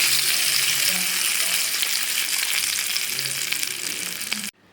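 Mustard seeds sizzle and crackle in hot oil for tempering a banana flower chutney, a loud, steady hiss with scattered pops that cuts off abruptly near the end.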